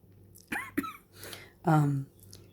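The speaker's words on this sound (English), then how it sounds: "I just got distracted by the cough" A couple of short, sharp coughs close to the microphone, followed by a brief voiced sound, in an otherwise quiet room.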